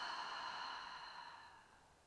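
A single soft, breathy exhale during a hypopressive pelvic floor exercise, close and quiet, fading steadily over about two seconds with no talk.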